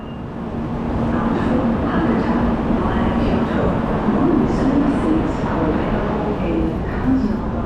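A Shinkansen Hikari train from Shin-Osaka runs into Odawara Station, a loud, continuous rumble and rush of wheels and air that holds steady for several seconds, with a narrator talking over it.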